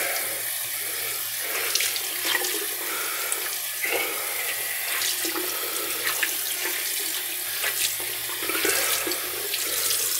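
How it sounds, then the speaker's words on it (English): Tap water running steadily into a sink for a cold rinse, a continuous close splashing hiss with small irregular spatters, no voices. "Now put cold water rinse."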